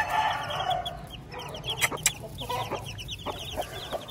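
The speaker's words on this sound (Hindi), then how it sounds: "नुमान ने इस मुर्गे को पकड़ लिया" A rooster clucks repeatedly in a farmyard among other fowl, with loud close squawking bursts early followed by a quicker run of short clucks.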